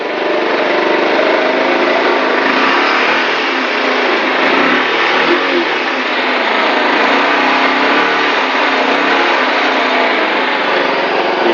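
A cold engine, seldom run except at weekends, runs on choke just after a slow start, its steady loud drone close by and unbroken, with no voices.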